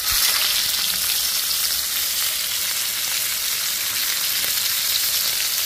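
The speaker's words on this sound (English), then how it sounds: "my pan's getting nice and hot. So I'm gonna drop the steak in." A ribeye steak sears in a hot cast-iron pan with olive oil, giving a loud, close, unbroken hiss and crackle of sizzling fat that holds steady throughout, with no voices.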